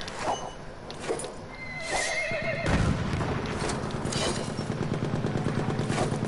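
A horse whinnies loudly and gallops with rapid hoofbeats in Battlefield 1 multiplayer on PS4, up close, while gunfire and machine-gun bursts crackle in the background.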